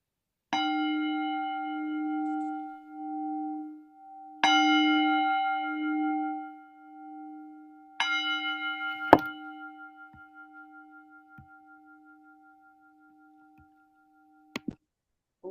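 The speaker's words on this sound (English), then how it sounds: "The sound of the bell calls me back to my true home." A mindfulness bell is struck three times at even intervals, each stroke ringing clearly with a long pulsing hum that slowly fades into silence, followed by a few faint light taps near the end.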